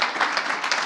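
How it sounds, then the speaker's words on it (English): An audience at a startup pitch night applauds in a short, dense burst of clapping that fills a room. "Can we get a round of applause for Amy and Adam?"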